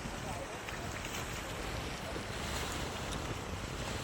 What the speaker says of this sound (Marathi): लाटा सकाळ सकाळ लाटा बघा एकदम शांत वातावरणामध्ये लाटा